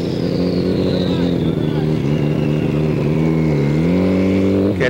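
Drag racing motorcycles at the Star Racing Nationals in Atlanta, an 1100cc 1999 Honda and a 400cc Kawasaki, rev up on the line. A loud, close, sustained engine drone swells and dips, with faint commentary underneath.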